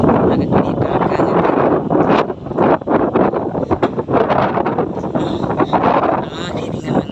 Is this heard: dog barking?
no